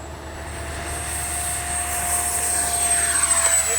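A Freewing F-22 70mm RC jet takes off, its electric ducted-fan whine holding a steady high tone that swells slightly as it accelerates, with continuous broadband rush and no talk.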